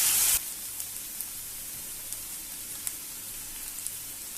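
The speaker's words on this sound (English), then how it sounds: "Add in some finely chopped onions and some finely chopped capsicum. Cook them till the raw smell goes away." Finely chopped onions and capsicum sizzle in a pan with a steady, soft frying hiss after a short louder burst at the start.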